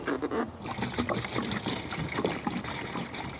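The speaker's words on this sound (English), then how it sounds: "I top it up with hot water." Hot water poured to top up a container holding Milton sterilising fluid in a caravan, a steady close trickling and splashing stream running throughout.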